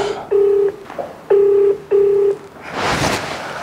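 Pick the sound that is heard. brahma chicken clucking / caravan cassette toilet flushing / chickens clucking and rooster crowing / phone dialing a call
phone dialing a call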